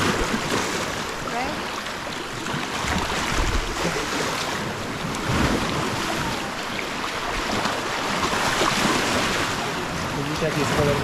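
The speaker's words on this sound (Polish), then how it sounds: "Ale dzisiaj są tu dość duże fale." Large ocean waves surge and wash around a shallow natural pool on the coast of Siquijor in the Philippines. The rushing surf is continuous and loud, with gusty wind buffeting the microphone and a voice faintly in the mix.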